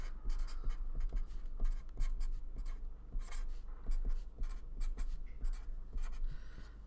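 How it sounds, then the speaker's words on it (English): Pen writing on paper while an equation is copied down, a steady run of quick scratchy strokes with short pauses between them, close and fairly quiet, with no talking. "So let's write that down."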